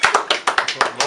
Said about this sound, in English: Clap it up for that one